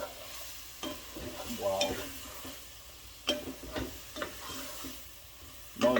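Peppered shrimp with vinegar cook in a pot and get stirred, with a low sizzle under repeated sharp scrapes and clatters of the spoon against the pot, and one brief spoken exclamation.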